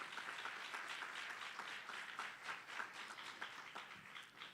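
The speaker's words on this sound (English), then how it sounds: "Can we give Homestead another round of applause?" Audience applause at a Hilltop announcement event, a steady wash of clapping that holds for several seconds, moderately distant and without speech.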